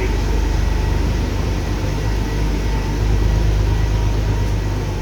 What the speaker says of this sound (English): Sounds nice. Nice, beautiful Porsche 911.